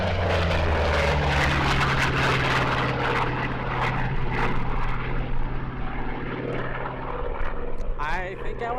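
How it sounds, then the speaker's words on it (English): A propeller-driven early warning aircraft of the type the Royal Navy acquired in 1951 drones loudly overhead at the Apple Valley air show, a steady deep engine roar over several seconds while a commentator talks over it. "that's the best sounding plane that we've heard today"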